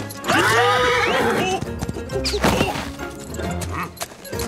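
Cartoon horse whinnies loudly up close, with hooves clip-clopping and a brief crash-like hit, set in a Zorro animated series near a cantina.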